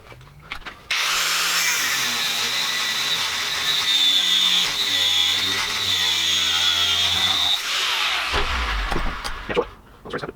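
A driveshaft clamped in a vise is cut by a power tool, which gives a loud, steady, high-pitched grinding whine for about seven seconds, then winds down and stops.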